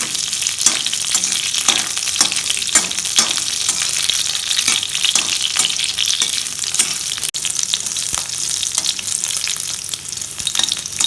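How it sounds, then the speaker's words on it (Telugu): Coriander seeds and green chillies fry in hot oil in a pan over medium flame, giving a steady close sizzle with light stirring scrapes throughout, no voices. "ధనియాలు వేసుకోవాలి. వీటితో పాటు పచ్చిమిరపకాయలు, ఇవి 2 కొంచెం ఫ్రై చేసుకోవాలి."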